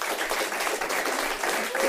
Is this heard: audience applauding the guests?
yes